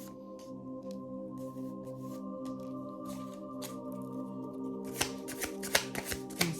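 Guidance cards shuffled by hand during a reading, a steady soft riffling and sliding that runs throughout under a low musical hum, with sharper crisp card snaps near the end.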